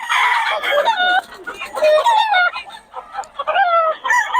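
Several stag roosters at a gamecock seller's stall in Bocaue cluck and crow loudly and close by, the calls overlapping in rough, wavering bursts with hardly a pause.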